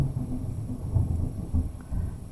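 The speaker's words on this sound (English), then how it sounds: "Sorry about that thunder" Low rumbling thunder from a heavy storm outside, rolling in several swells over a steady background, fairly loud with no talk.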